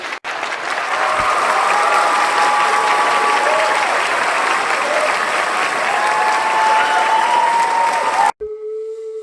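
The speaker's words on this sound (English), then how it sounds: "I'd like to offer a round of applause for Clifford and Mahooty." A gathered audience gives sustained, loud applause for a Zuni elder at an Earth-Keeper event, dense clapping filling the room for about eight seconds before cutting off abruptly.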